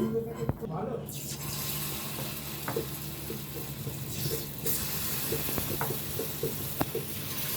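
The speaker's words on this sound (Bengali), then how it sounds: "তেলটা আমার হয়ে গেছে একটা আমি ফেলে দেখলাম কি সুন্দর ফুল উঠেছে" Green banana and sweet potato fritter batter sizzles in hot oil, a steady close hiss with occasional small pops and crackles throughout.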